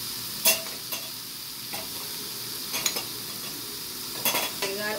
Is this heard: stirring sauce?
yes